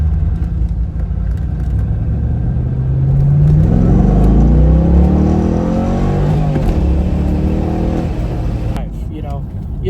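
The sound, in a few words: C5 Corvette accelerating hard, engine revving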